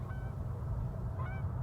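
Geese honk in an open frosty field grazed by cattle, a few nasal calls at the start and again near the end over a low, steady outdoor rumble.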